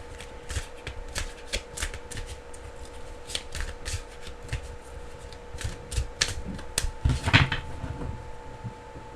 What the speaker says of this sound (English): I'm gonna shuffle first before I say what I'm sensing here.